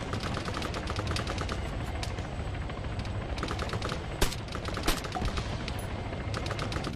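Suppressed rifle fire in Arma 3, a steady run of rapid muffled shots going on continuously, with a couple of sharper louder cracks near the end.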